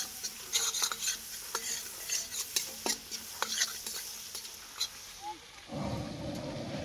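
Cumin seeds and dried red chillies stirred in butter in a pan: close scraping and clinking of a spoon over a soft sizzle, then a louder, steady frying hiss near the end.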